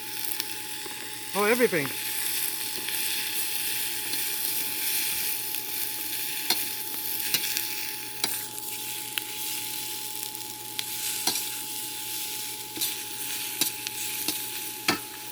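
Steady sizzling of zucchini and mushroom being stir-fried with tofu in a hot pan, a continuous hiss with occasional scraping stirs, while a voice speaks briefly near the start.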